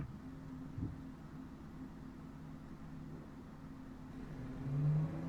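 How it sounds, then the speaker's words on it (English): A car engine idles in the video game Automation, a quiet, steady low hum that swells slightly near the end, with no other sounds around it. "I just wanted to hear the engine run."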